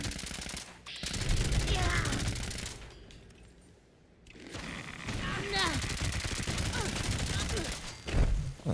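Video game gunfire from Fallout 76 comes in heavy automatic bursts, a long stretch of rapid shots, a brief lull, then another sustained barrage, with voices mixed in.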